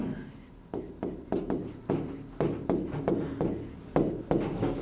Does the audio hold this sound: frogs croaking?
no